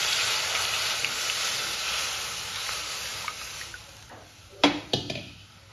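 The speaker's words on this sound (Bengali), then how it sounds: "এবার এখানে অ্যাড করে দেবো আমি দুধ।" Milk poured into a hot pan holding cardamom and bay leaves fried in it, a steady sizzling hiss that fades, followed by a few sharp clanks of the pan near the end.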